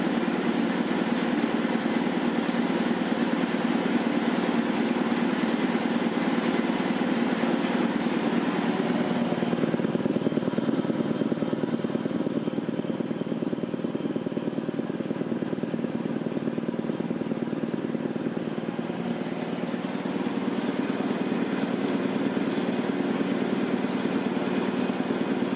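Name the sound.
1960s Quincy 230-32 air compressor with 3hp Dayton Dyna motor running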